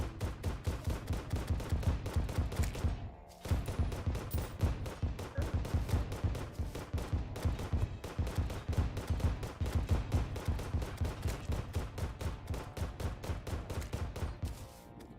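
Phoenix Blaster gunfire in Terraria, heard as rapid, loud, continuous shots in a dense stream that breaks off briefly after about three seconds, then keeps firing to the end.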